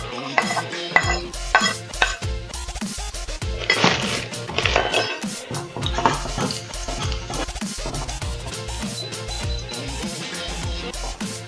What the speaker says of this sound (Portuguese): vamos adicionar o alho.